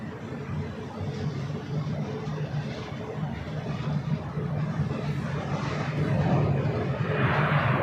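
Turkish Airlines A350-900 airliner arriving at LAX, a steady distant jet roar that swells slightly toward the end, with faint background chatter.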